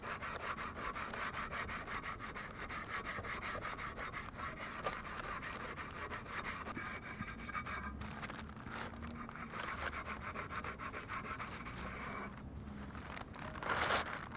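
Sandpaper is rubbed by hand over the rear differential cover of a Jeep Cherokee XJ in quick, repeated back-and-forth strokes. The scratchy rasping is close and continuous, with a few brief pauses near the end and no talking.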